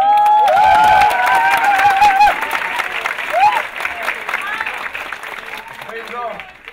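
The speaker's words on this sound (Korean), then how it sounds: "박수 좀 쳐주시기 바라겠습니다." Applause from the audience at a Korean musical graduation performance of West Side Story, a dense, loud wash of clapping with some cheering and a lingering sung or sustained tone at the start. Clapping fades gradually toward the end.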